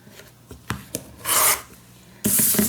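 Paper envelope being trimmed to height with a rasping cutting sound: a few soft taps, then two loud, sustained broadband strokes of about a second each, close and alone with no talking.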